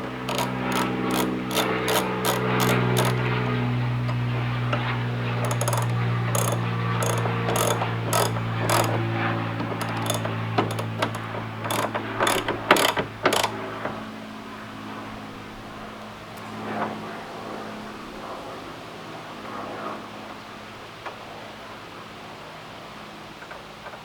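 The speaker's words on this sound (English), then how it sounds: "Tighten this nut back up on the bracket." A hand ratchet tightens a nut on an engine-bay bracket of a Shelby GT350, giving rapid bursts of crisp, close clicks in several runs, fading toward the end.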